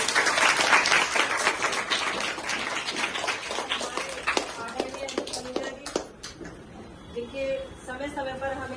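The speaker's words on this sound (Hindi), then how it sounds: "तो एक बार इनका ताली बजा के" An audience claps together for food vendors, loud and dense at first, then thinning into scattered claps before fading, with voices talking over the end.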